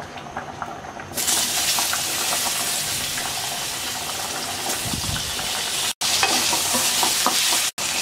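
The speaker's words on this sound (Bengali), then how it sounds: "এই তেলে আমরা আলুটা ভেজে নিচ্ছি।" Potatoes frying in the oil left over from frying rui fish in a wok, a sudden loud sizzle that starts after a second of quiet and stays strong, with a brief stir near the end.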